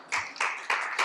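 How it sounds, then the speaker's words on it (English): An audience at a business talk claps together in a brief burst, dense hand claps swelling in three or four quick surges, close and loud. "Big applause for her."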